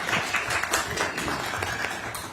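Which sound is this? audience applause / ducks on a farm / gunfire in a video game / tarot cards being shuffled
audience applause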